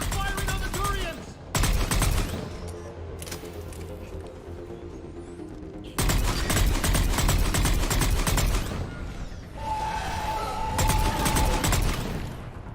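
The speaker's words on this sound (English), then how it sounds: "Harvester firing on the Turians!" A Harvester fires on Turian soldiers in Mass Effect 3, giving long, loud barrages of rapid weapon fire in two main bursts separated by quieter stretches, with battlefield rumble underneath.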